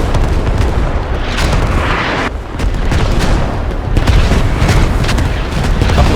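Artillery explosions in the video game Squad rumble in a dense, continuous barrage of booms and blasts, loud and heavy, with no clear gaps between impacts.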